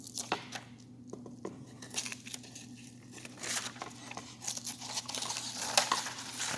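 A paper backing sheet is peeled off and partly torn during an LED sign build, with close, steady crinkling and ripping in uneven bursts.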